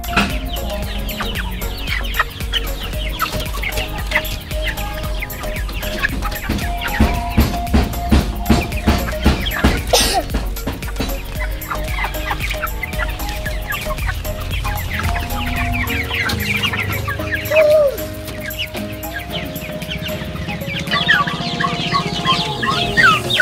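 Free-range chickens cluck continuously through a farmyard scene, with several birds close and loud, overlapping calls and occasional sharper squawks over steady outdoor background noise.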